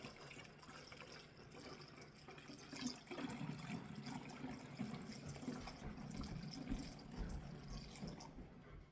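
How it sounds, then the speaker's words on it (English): Homemade kombucha poured slowly through a funnel into pop-top jars, a soft steady trickle and splash of liquid running for several seconds, fairly faint and close. "So I'm just going to pour it slowly"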